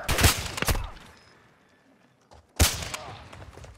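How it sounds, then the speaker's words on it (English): Two loud, separate bursts of rapid gunfire in Call of Duty: Modern Warfare II, close and sharp, with a quiet gap between them. "I was getting shot at."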